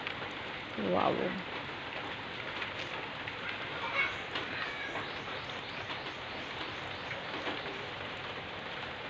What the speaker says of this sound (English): My little red is enjoying the rain.